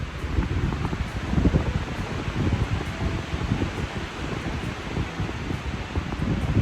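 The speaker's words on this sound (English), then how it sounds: "The wind is picked up." Strong wind blows outdoors near big trees in slushy winter weather, a continuous gusty rushing that rises and falls without pause, with no voices.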